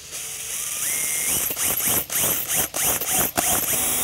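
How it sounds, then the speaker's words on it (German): A drill widening a hole to 8 mm in a Kia Ceed, whirring up in short repeated bursts with clicking, ratcheting mechanical noise, close by. "So, und das bohren wir jetzt auf."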